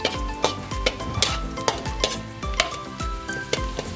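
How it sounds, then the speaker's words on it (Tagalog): Beef sautés with browned garlic in a pan, a steady close sizzle punctuated by rhythmic scraping and clinking of a spatula or spoon stirring against the metal. "We are going to saute the meat as well and wait until it turns red."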